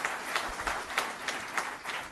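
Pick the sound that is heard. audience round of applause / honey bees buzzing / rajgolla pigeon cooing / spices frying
audience round of applause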